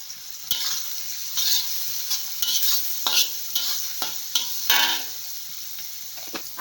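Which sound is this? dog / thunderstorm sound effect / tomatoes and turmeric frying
tomatoes and turmeric frying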